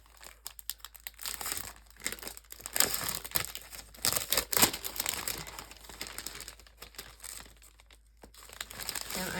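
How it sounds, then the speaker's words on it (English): Sheets of blueberry vellum paper crinkle and rustle as they are handled on a craft table, steady soft crackling with brief louder crunches, no voices. "Let's just use this paper. This is the blueberry vellum."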